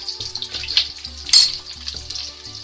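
Chilies sizzling in hot oil in a pan for chana masala, a steady crackling fry with light scraping and clinks of utensils, one sharper spattering burst midway.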